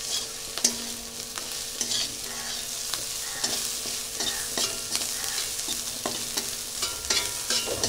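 Onions fry in hot oil for an egg curry, a steady sizzle broken by repeated scraping stirs of a spoon against the pan, fairly close and with no one talking.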